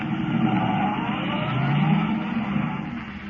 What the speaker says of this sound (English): Forcing the car to the limit of its speed, Kent races toward Linwood